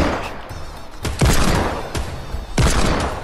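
Gunfire in Fortnite bursts out in three loud, close volleys, each a sharp crack followed by a rattling tail, with no talk over them.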